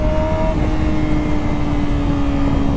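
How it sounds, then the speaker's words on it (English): Yamaha R6 sport motorcycle idling with a steady engine drone and exhaust note, close and loud, with faint pops and crackles from the exhaust. "I love the pops on this exhaust"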